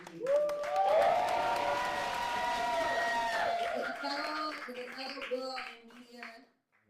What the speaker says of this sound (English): One more time, give a round of applause for the lady